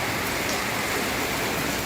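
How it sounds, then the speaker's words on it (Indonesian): First rain in nearly half a year falls in Makassar in the early morning, a steady, enveloping patter and hiss of rain on surfaces, constant and fairly loud with no voices. "hujan turun untuk pertama kalinya lagi setelah hampir setengah tahun"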